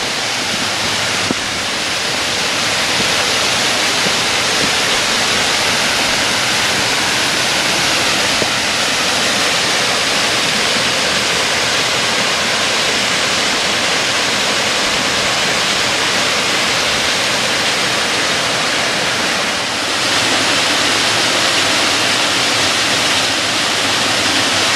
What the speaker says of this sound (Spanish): va a oírse mucho el agua caer por la cascada